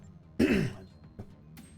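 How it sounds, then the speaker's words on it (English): A single throat clearing from a streamer, close and fairly loud, followed by a couple of faint smaller rasps, during a Legends of Romulus game stream. "Cough a bit."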